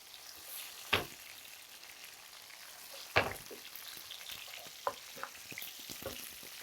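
Onions and freshly cut green chillies sauté in a pan for a nethili and mango kuzhambu, a soft, faint sizzle broken by a few sharp stirring clacks.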